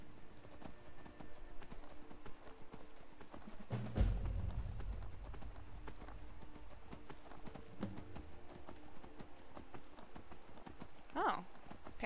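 Horse hooves clip-clop at a steady walking rhythm in Skyrim. The footfalls are close and fairly quiet, a brief louder thump comes partway through, and a short neigh-like cry follows near the end. There is no talk.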